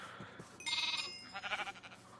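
A Minecraft sheep bleats twice in quick succession, a short wavering tone followed by a second similar bleat, quiet and clear with no speech over it.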